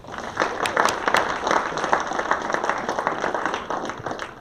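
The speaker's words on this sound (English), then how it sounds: "Let's just give a big round of applause to everybody that pitched." An audience at a Longhorn Startup Lab pitch event gives the startup pitchers a sustained round of applause, a steady wash of many overlapping handclaps at moderate volume.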